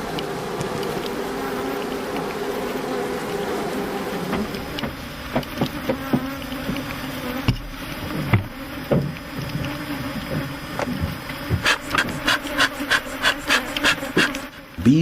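Honeybees buzz steadily throughout, with a run of sharp clicks and knocks growing denser toward the end.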